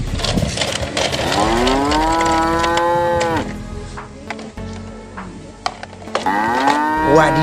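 A toy dairy cow gives a loud, drawn-out moo that rises and holds, then a second moo begins near the end, alone and close, with faint mechanical clicks between.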